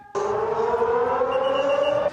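An air raid siren sounds during a civil defense drill in Taiwan, a single sustained wailing tone that rises slightly in pitch, loud and steady for about two seconds.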